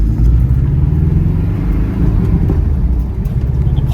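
A wrecked Porsche Cayman S engine accelerates on its first drive, a loud, steady low rumble heard from inside the car that holds a strong droning tone throughout.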